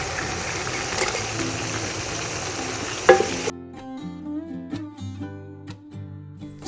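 Tomatoes land in a pan of spiced mutton masala frying in oil, giving a loud, dense sizzle with stirring for about three seconds before it cuts away to quieter tonal background music.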